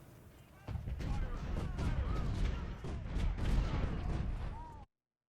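Artillery in the Civil War video game Ultimate General: Civil War fires continuously: a dense run of booms and blasts mixed with battle noise, heard under ongoing talking, then cutting out abruptly.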